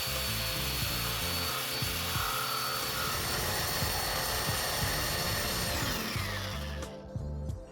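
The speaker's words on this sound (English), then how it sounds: "Loosen the cap to release the water and very carefully drill a hole." A steady, loud grinding drone of a hole saw drilling through glass with water, continuous for several seconds before cutting off near the end.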